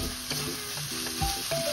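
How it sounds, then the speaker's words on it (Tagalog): Pancit canton with bacon being stirred in a pan, with repeated utensil scrapes and light clinks over a continuous close sizzle. "halo lang ng halo, hindi tayo mapapagod sa paghahalo"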